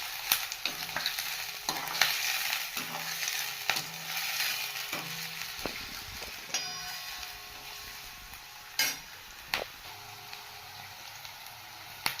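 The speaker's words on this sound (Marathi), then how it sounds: "आता आपण त्याच्यामध्ये कढीपत्ता मिरची आणि लसणाच्या पाकळ्या टाकून" Curry leaves, green chilli and garlic cloves frying with onion in oil for an Indian dish, a steady sizzle with repeated sharp ticks and clicks of a spoon stirring in the pan, no talking.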